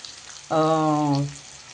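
Vegetables stir-frying in a mix of butter and oil for schezwan fried rice give a steady, moderate sizzle, briefly overlaid by a short tonal hum midway.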